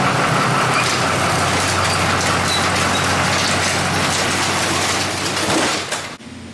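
A Duramax diesel truck runs on a dyno, a loud steady engine roar with low rumble holding for about six seconds before cutting off abruptly.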